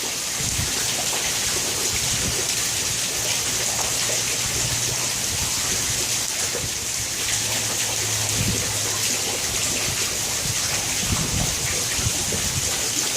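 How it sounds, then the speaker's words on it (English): Steady rainwater running and dripping under a bridge by the Lachine Canal during a thunderstorm, a dense continuous wash of water with a low rumble underneath, no voices. "Very relaxing sound,"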